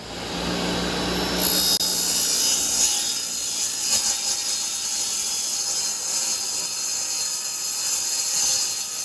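A Japanese saw cuts through wood with a steady, rasping, scratchy sound, close and continuous for several seconds, over a faint high-pitched background hum and with no speech.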